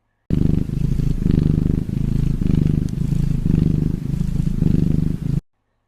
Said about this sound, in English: They also purr.